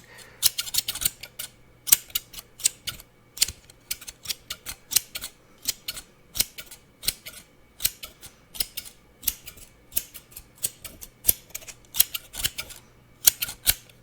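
Rapid, crisp snips of scissors cutting hair, repeating in quick irregular bursts throughout, close up with a faint steady hum underneath.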